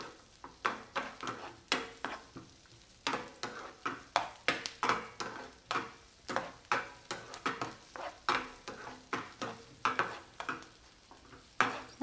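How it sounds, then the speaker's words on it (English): Onion and garlic cooking in a pan for bruschetta, with a steady stream of sharp clinks and scrapes from a utensil stirring against the pan, repeated irregularly at close range and fairly quiet, with no talking. "just saute the onion and the garlic for like a minute or two"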